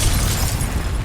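A loud, dense magical impact burst from the Expelliarmus spell in Hogwarts Legacy, a broad booming roar with heavy low end sustained for about a second, no talking.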